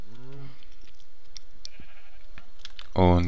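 Sheep in the Minecraft video game give two short bleats, one at the start and a louder one at the end, separated by soft clicking sounds.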